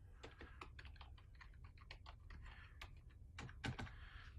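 Typing on a computer keyboard while entering an account name during software setup, with quick irregular key clicks close to the microphone and a few brief pauses between bursts.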